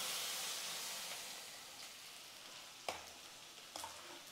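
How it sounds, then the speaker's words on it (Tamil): Hot tempering with asafoetida poured into a pot of small-onion sambar, giving a steady sizzle and hiss that slowly fades, with a couple of clinks of the pan near the end. "நம்ம தாளிச்சது எடுத்து சாம்பாரில் ஊற்றிக்கலாம்"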